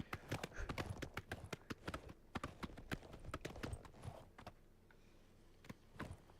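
Horse hooves clip-clop in the video game Oblivion Remastered, a steady run of sharp, close hoofbeats that thins out and slows toward the end, with no talk over it.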